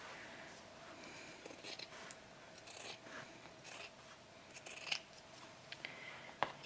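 Fabric scissors trim the edge of a quilt binding down to a quarter inch, giving a few quiet, brief snips and rustles against a soft room hush, with no voices.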